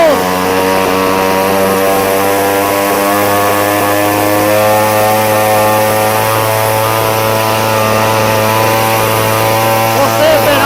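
A VEVOR 12-inch clone chainsaw runs steadily at high speed, a loud continuous two-stroke engine drone with strong harmonics that holds evenly for the full length without pausing.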